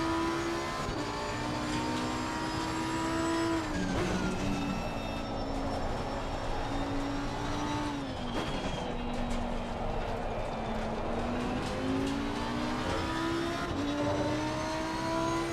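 Lamborghini Huracan GT3 Evo 2 in a racing game, engine droning steadily with pitch rising and falling through gear changes and corners, tire noise mixed in, loud and continuous throughout.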